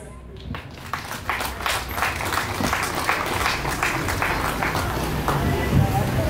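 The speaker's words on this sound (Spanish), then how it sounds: "nuevamente fuerte aplauso a nuestra princesa Xinabajul, Ramona Guadalupe Hernández Méndez" Applause from an audience at a princess crowning ceremony in Jacaltenango, building into steady, dense clapping with crowd murmur and voices mixed in, loud and continuous to the end.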